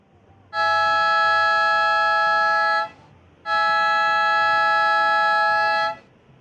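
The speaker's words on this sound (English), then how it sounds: "So that siren signals the end of Heat 2 of the quarterfinals" Two long, loud, steady horn-like siren blasts end a quarterfinal surfing heat, each about two and a half seconds, separated by a short pause, carrying over faint outdoor background.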